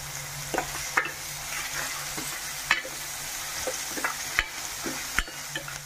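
Onions frying in a pan with a little salt, a soft steady sizzle broken by irregular close spoon clicks and scrapes against the pan.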